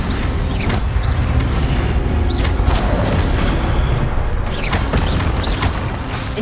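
Incendio fire spell cast repeatedly in Hogwarts Legacy, sounding as loud whooshing, crackling bursts with sharp whistling streaks, several casts in quick succession over continuous game noise.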